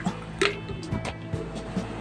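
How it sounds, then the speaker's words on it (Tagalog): A little water poured into a cooking pan of sautéed pechay, brief splashes and drips with soft sizzling and clinks, fairly close and moderately quiet. "Maglalagay din po ako dito ng konting tubig."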